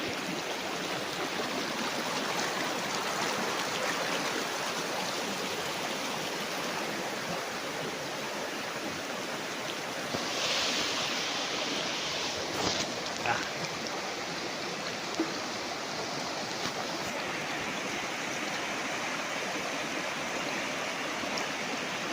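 A river flows beside farmland in Majayjay, Laguna, as a steady, moderately loud rushing wash of water that runs unbroken throughout, with a few faint bumps and ticks on top.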